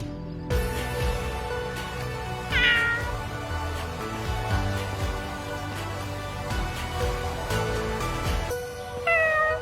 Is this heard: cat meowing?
yes